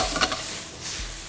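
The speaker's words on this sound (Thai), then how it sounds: "เริ่มหอมแล้วผมใส่ปลาหมึกก่อนเลย" Squid goes into a hot wok with garlic, chili and galangal, giving a short, close burst of sizzling frying with a scrape of stirring.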